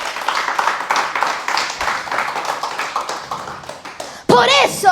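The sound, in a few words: congregation applause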